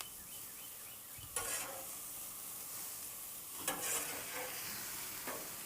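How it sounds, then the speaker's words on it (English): Burgers sizzling and frying in a pan, a constant bright hiss with a few short scraping bursts as they are stirred and flipped, close by with no talk. "Let's check our burgers because I'm getting some smoke here"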